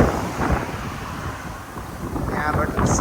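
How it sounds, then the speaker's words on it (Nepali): Gusty wind blows outdoors in Romania, a steady broadband rush with buffeting on the microphone that swells near the end, loud and close throughout with no clear speech. "यहाँबाट सट्ट हावा चलिरहेछ"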